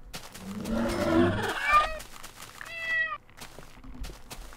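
Minecraft cat meowing in-game: a clear drawn-out meow near the start, then a second shorter rising meow a little later, both fairly loud over a faint game background.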